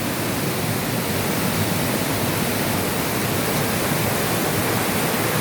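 Rushing floodwater from heavy rain roars in a constant, dense wash that stays loud and unbroken throughout, with no voices.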